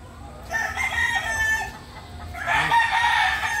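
A tukong rooster crows nearby, two full cock-a-doodle-doo calls in quick succession, loud and clear with no talking over them.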